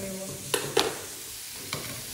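Vegetables for Ukrainian borscht sizzling as they fry in a pan, a steady soft crackle broken by a few distinct scrapes of stirring.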